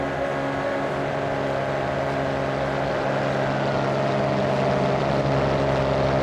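A loud modded car engine in the BeamNG racing game drones steadily at high revs for the whole stretch, a dense, buzzing motor tone with no speech over it.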